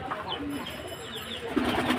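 Homing pigeons, a freshly paired flock of tumbler-bred birds with a light-bordered hen, coo softly at moderate distance, low murmuring calls repeating over steady background noise with no talking.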